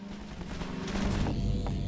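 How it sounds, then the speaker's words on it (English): Combine soldier gunfire in Half-Life 2 heard from a distance, a dense rattle of muffled shots that grows fuller and louder partway through, with a high whine entering near the end. "Just listen to how a Combine soldier's gunshots change as you drive towards them."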